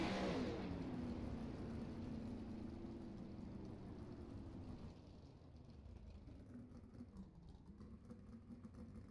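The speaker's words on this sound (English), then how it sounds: "Hopefully the cars are not going to be too overpowering right now." Sprint race car engines at the Knoxville Nationals dirt track roar loudly and steadily, with a rising and falling pitch as the cars pass. The engines gradually fade a little but stay continuous throughout, with no talk.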